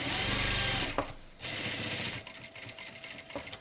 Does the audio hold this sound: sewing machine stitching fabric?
yes